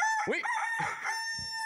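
Rooster crowing, a single loud, drawn-out cock-a-doodle-doo heard close up as a sound effect, with a brief spoken word over it.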